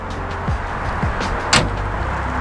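A 2022 Audi R8 V10 Performance's engine cover is shut with a single solid thud partway through, over a steady background hum with a few faint knocks and shuffles.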